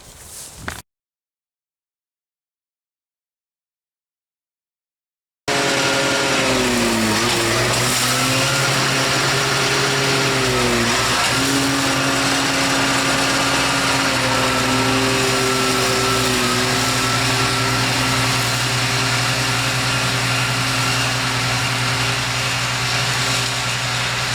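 A lawn mower engine runs loud and close with a steady droning hum, its pitch dipping and recovering a couple of times under load before holding even, with no talk.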